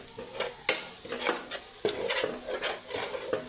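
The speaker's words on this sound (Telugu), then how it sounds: "ఇది బాగా నూనెలో మగ్గబెట్టుకుందాం." Spiced masala of cumin and coriander powder sautés in oil for a Godavari-style fish curry, with soft steady sizzling broken by several sharp scrapes and clinks of a spoon stirring in the pan.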